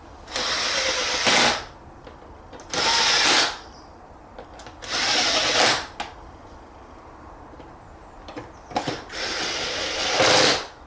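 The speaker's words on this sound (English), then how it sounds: "Once it's back in there, you can tighten the screws." Several short bursts of a cordless power driver or drill tightening screws on the air filter housing of a 2000 Mercedes-Benz C200, close and loud, with quiet pauses between each run.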